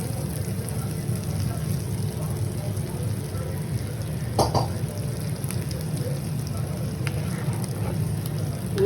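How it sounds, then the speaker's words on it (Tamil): Hot tempering poured into tomato pickle gives a steady crackling sizzle like rain, holding at an even level throughout, with one brief louder spatter near the middle. "சூட்டோடு எடுத்து ஊறுகாயில் ஊற்றிடணும்."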